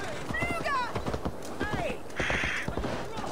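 Horse hooves clip-clopping at a run in the Assassin's Creed Valhalla video game, a steady rapid beat with neighing-like game sounds and someone talking over it.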